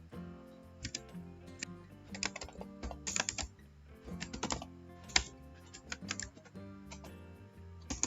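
Computer keyboard typing code, a close, quick run of irregular clicking keystrokes with occasional louder taps, alone without speech.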